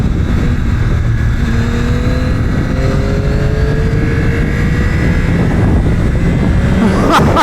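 Yamaha R9 sport motorcycle ridden on a race track, its engine droning loud and steady with rising and falling pitch sweeps as it accelerates and shifts, heavy wind rush throughout.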